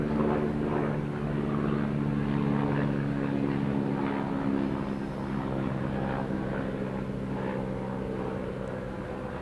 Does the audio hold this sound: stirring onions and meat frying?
no